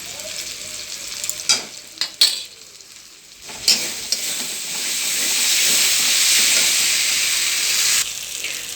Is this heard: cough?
no